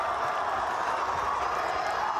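Audience at the Eurovision Song Contest in Tel Aviv bursts into ovation, a brief, steady wall of applause and cheering that holds at an even level throughout.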